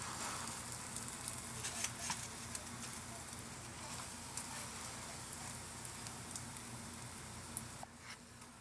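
Basil butter sizzling in a pan, a fine, continuous crackling patter at moderate level with small pops scattered throughout and a faint low hum underneath.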